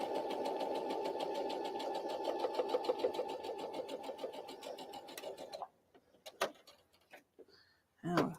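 A sewing machine stitches fabric in a fast, even, rapid-fire run for about five seconds, then stops, leaving a few scattered mechanical clicks and knocks.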